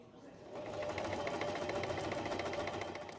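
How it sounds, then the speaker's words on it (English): A sewing machine runs steadily at close range, with a fast, even mechanical stitching rattle starting after a brief pause and continuing without a break. "To the soundtrack of the sewing machine"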